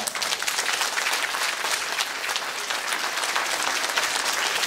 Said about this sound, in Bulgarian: Още веднъж силни аплодисменти за тях